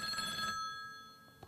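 A telephone rings in a radio studio, a short burst of sustained bright electronic ringing that cuts off partway through, followed by a faint click.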